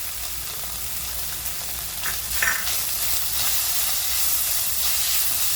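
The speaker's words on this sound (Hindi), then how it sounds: "हरी मिर्ची डालेंगे, अभी गाजर डालेंगे और शिमला मिर्च डालेंगे और अच्छे से भूनेंगे।" Green chilli, carrot and capsicum frying in a pan, giving a steady sizzling hiss with soft stirring scrapes that swell slightly partway through, with no voices.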